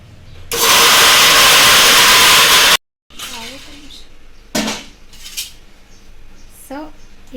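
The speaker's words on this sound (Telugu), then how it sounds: "ఇప్పుడు మిక్సీ పట్టేసుకుందాము" Mixer grinder whirring loudly over fried boondi for motichoor laddu, a dense roaring burst of about two seconds that cuts off abruptly, followed by clattering of the jar and lid and a voice speaking.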